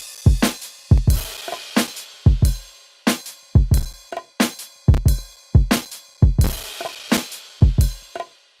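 West Coast hip-hop drum beat with kicks, snares and hi-hats playing together, a steady looping groove of punchy hits with crisp hats in between, loud and up front with no voices.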